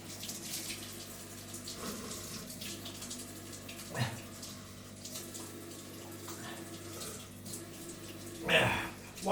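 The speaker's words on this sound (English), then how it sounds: "Let's wash the mushrooms." A kitchen tap runs steadily while mushrooms are washed for pizza, a soft close trickle with faint handling clatter and a louder splash of water near the end.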